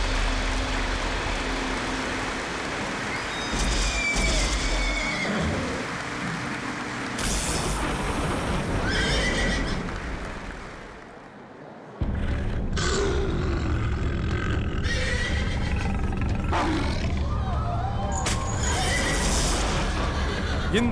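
A horse neighs and whinnies several times in a dubbed Hollywood fantasy film about a wonder horse, the unicorn. The calls sit among busy soundtrack noise and effects, broken by a brief quieter cut midway.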